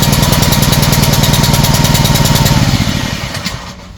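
Small engine runs with a fast, even putter right after a single starter pull, loud and close, then slows and dies away toward the end.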